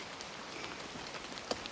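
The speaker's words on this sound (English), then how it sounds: "It's raining." Rain patters steadily during a cold mountain hike on Mt Mitchell in Queensland's Scenic Rim, a faint, diffuse hiss with scattered soft drops and one sharper tap near the end.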